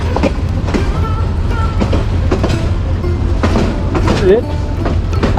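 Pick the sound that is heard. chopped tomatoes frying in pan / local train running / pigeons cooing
local train running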